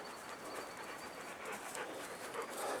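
A big dog pants outdoors in steady, breathy, rapid bursts, moderately quiet and continuous, with no voices.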